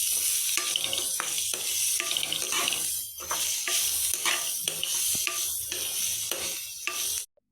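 Biryani masala being stirred in a frying pan with steady scraping and clattering strokes over a soft sizzle and watery wash, a brief lull midway, then an abrupt stop at the end; no talking.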